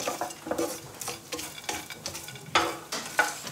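A spoon scrapes and stirs granola toasting in a hot pan, with rhythmic strokes every half second or so over a soft dry sizzle, close and clear.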